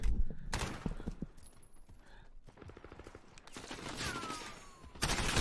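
Gunfire from a Call of Duty League Domination match: bursts of rapid automatic shots and loud blasts come in waves, with quieter stretches between them and dense, close-sounding volleys at the start and end.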